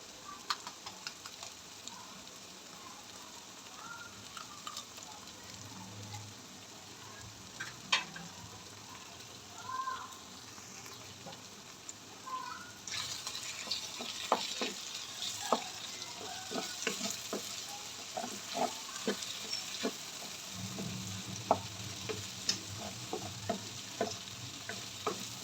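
Two eggs sizzle steadily as they are stirred in a pan with cooked potato and vegetables. A spatula scrapes now and then, and the frying grows louder and busier partway through.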